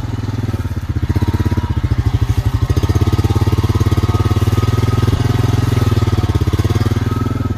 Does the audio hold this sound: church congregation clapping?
no